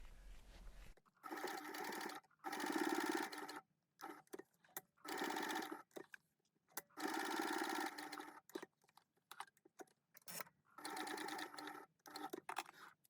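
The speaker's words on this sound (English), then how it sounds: "we're going to top stitch along those 3 edges and baste along that curved edge" A domestic sewing machine top stitches the edges of a slim fabric bag, running in several loud bursts of rapid, steady stitching separated by short pauses.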